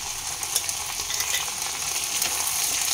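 Vegetables being sautéed with radhuni spice paste and ginger paste for shukto, a steady hiss of frying with soft stirring scrapes, close and even throughout, no talking.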